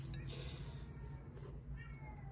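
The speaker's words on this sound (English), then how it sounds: "I hear the stray cat out there." A cat meows faintly in the distance, a few drawn-out calls over a low background rumble.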